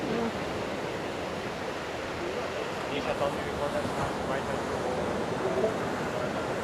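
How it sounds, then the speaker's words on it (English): Sea waves breaking on the shore at Cala Major, Mallorca, a steady broadband wash of surf that rolls on without pause, fairly loud and close, with faint voices talking in the background. "Waves are quite amazing, aren't they?"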